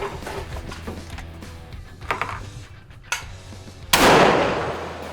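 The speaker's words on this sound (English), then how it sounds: "All right, I'm gonna shoot my last two." A suppressed Mossberg Patriot rifle in 6.5 Creedmoor fires at an outdoor range: a few muffled cracks with metallic clatter, then one louder shot that rings and decays near the end.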